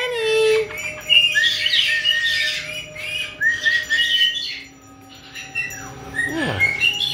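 Several pet birds squawk and chirp close by in an indoor bird room, bright overlapping calls with harsh squawks and quick tweets, continuous throughout with a brief lull near the end.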